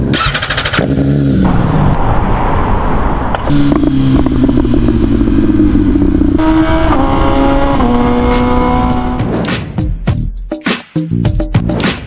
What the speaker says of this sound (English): that's a stock exhaust with only the mid-pipe modification done on this MV Agusta Brutale 1000RR